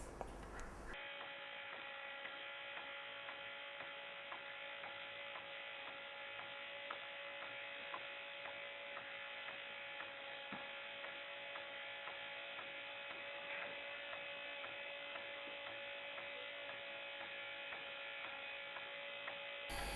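A small electric motor runs with a steady whirring buzz, driving a shaft linked to a pulley by a rubber belt; the hum holds constant and fairly close for the whole stretch, with no talk.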